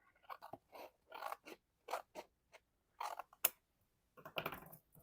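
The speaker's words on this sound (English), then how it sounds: "I'm going to flip this over and trim off the excess on both sides" Scissors trim excess paper from a junk journal page in a series of short, crisp snips and scrapes with quiet pauses between them, close up and alone.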